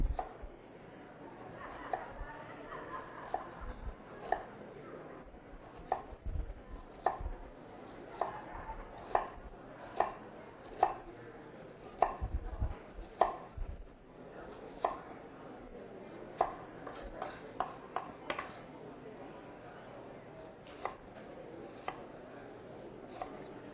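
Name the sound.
knife slicing food vertically on a cutting board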